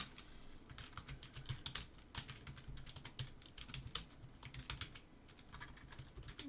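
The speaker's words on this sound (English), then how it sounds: "you're going to actually type and edit it" Typing on a computer keyboard, a steady run of quiet, close key clicks with brief pauses and no talking.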